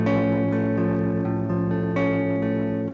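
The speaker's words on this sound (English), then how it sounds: "Then you would switch to the augmented chord." An augmented chord strummed on guitar in a barre-chord lesson rings out steadily with sustained tones, restruck about midway, then cut off near the end, with no talking.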